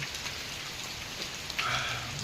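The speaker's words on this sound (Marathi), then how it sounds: "बघा इथं दाखवतो पाऊस का एवढा आता आता कमी झाला आहे" Monsoon rain falls steadily in Konkan, a dense, even hiss of drops on surfaces close by, with a brief brighter spatter near the end and no voices.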